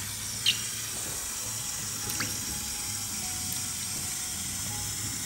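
Shower water runs steadily while a hedgehog is rinsed off, a constant close hiss with a few small clicks and knocks and no talk.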